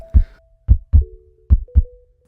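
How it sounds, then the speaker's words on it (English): A drum pounding out a slow heartbeat-like rhythm at about 60 beats per minute, heard as five deep, close thumps in paired lub-dub groupings, with a faint sustained tone underneath. "it's a drum, but it's throughout the whole song. And it begins at 60 beats per minute"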